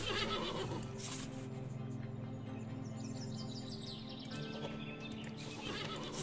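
Horse neighing in the video game Above Snakes, a clear whinny over game music and ambient sound with light hoof clops and faint bird chirps in the background.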